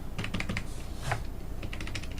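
Fingers tap quickly on a computer keyboard, a close run of crisp clicking keystrokes in uneven bursts with a short pause midway, heard alone.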